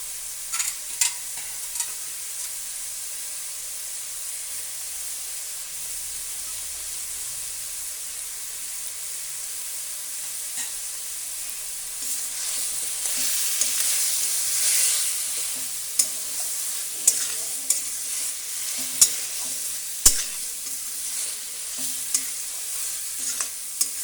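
Chickpea greens fry and stir in hot oil, a steady high sizzle with occasional sharp spatula scrapes and pops that grow busier toward the end.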